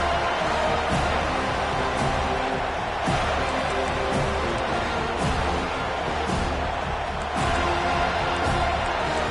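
Dense, loud roar of a packed stadium crowd at a college football game between Cincinnati and Florida State, a sustained wall of voices swelling in waves with no distinct speech on top.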